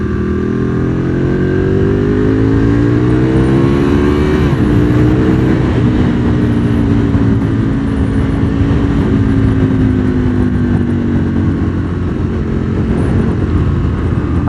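Aprilia RSV Mille R first-generation V-twin sport motorcycle engine while riding, a loud continuous drone rising and falling as the rider pushes on, with steady wind rush throughout and no talk.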